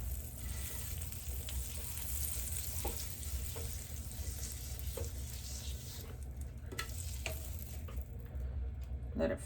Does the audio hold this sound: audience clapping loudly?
no